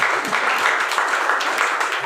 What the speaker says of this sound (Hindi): हम चाहते हैं कि हमारे एमडी सर के लिए एक जोरदार ताली हो जाए